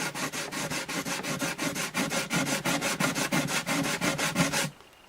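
Sandpaper rubbed briskly against a dot inlay set in the wooden bridge of an Alvarez Artist AD65 acoustic guitar, steady rhythmic back-and-forth strokes, close and loud, stopping abruptly near the end.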